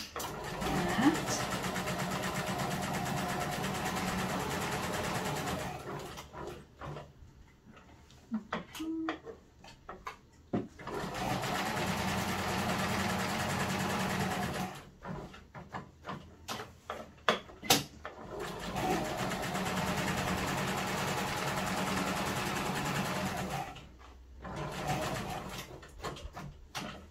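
A sewing machine runs stitching a fabric seam for a peg bag, with long steady motor whirring stretches broken by pauses and small clicks as the fabric is adjusted.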